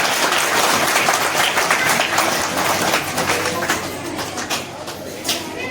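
Applause from parents and attendees at a school parents' meeting, loud and close, a dense burst of clapping that carries on and gradually thins toward the end.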